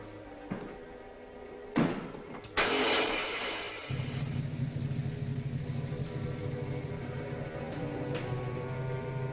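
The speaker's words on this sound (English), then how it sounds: "Start the motor." A car motor turning over and settling into a steady low idle in a 1946 thriller scene, preceded by a couple of thumps like a door slam, running on continuously and fairly quietly with no talk.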